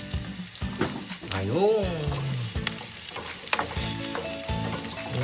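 Chili sizzling in a frying pan as it is added during cooking of ginataang kalabasa, a steady crackling hiss with stirring clinks, while a voice talks over it.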